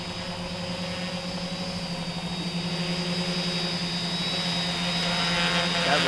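A tilt-rotor dual-copter drone flies with a steady, high-pitched motor whine and buzzing propellers, holding at moderate loudness and rising slightly over several seconds.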